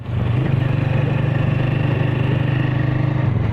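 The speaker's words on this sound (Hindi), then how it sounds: "चलो यार भाई जाहिद स्टार्ट कर।" A motorcycle engine runs with a steady, loud low chugging idle right after starting, close by and unbroken for the whole stretch, with no talk over it.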